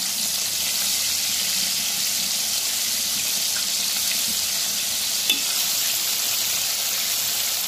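Broasted chicken fries in hot oil, giving a steady, dense sizzle and bubbling hiss throughout, fairly close, with one faint clink partway through and no voices.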